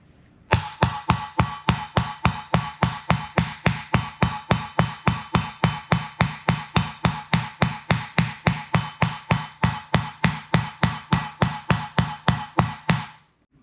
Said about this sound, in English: See the bearing coming out.